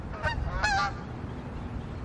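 Two loud honks from geese near an outdoor court during a tennis lesson, short nasal calls over steady background noise, the second longer and stronger.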